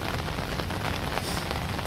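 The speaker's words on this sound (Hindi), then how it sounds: "लगातार 3 दिन से यहाँ पर बारिश" Heavy monsoon downpour falling on flooded ground after days of rain, a dense, steady roar of rainfall with constant splashing close by and no voices.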